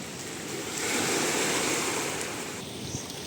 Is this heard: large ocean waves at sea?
yes